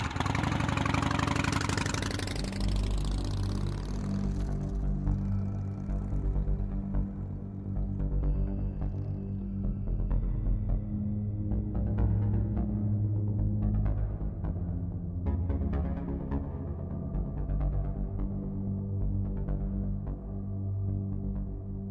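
A motorcycle with a sidecar drives around a valley in Gabriel Knight 3, its engine droning steadily at a mid-low pitch with a slight rough idle quality, after a brief swell of louder noise at the start.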